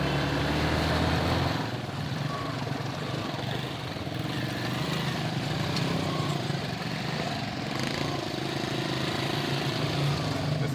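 A motorbike carrying three riders drones steadily through a Haitian slum, rumbling and revving slightly as it rides along and up curbs, with road and wind noise around it.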